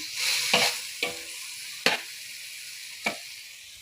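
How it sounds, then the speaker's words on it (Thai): Curry paste stir-fried in a hot pan for a Thai spicy wild boar stir-fry, with a steady sizzle and four sharp scrapes of the spatula spaced unevenly across the clip, close and alone. "ผัด ผัดพริกแกง"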